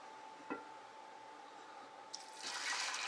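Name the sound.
quart of water poured into a pot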